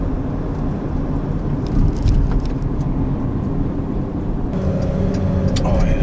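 Modified Sprinter van engine accelerating on the road, a steady rumbling drive with road and wind noise that swells midway, heard from inside without talk.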